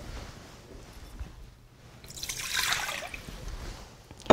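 Liquids for a country-style boule bread dough are poured into the bowl of a food processor, a quiet trickle that swells into a louder splashing pour midway and then settles down again.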